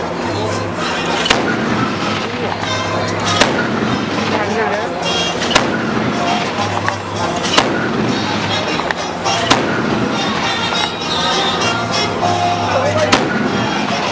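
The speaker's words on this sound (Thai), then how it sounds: "หุ่นยนต์ตัวนี้นะ สามารถ เคลื่อนที่ประกอบการยิงได้" A Thai-made D-Iron attack robot fires during a military weapons demonstration. Loud, sharp bursts crack out every couple of seconds over a constant roar of engines and crowd noise.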